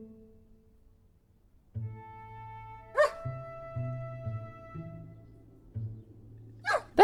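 A cat character in the Cthulhu adventure game Gibbous barks like a dog, giving a series of short mid-pitched yapping barks with sharp bright clicks between them, fairly close and unaccompanied by speech.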